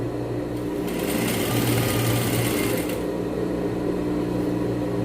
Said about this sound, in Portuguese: E vou costurar bem na pontinha, tá certo?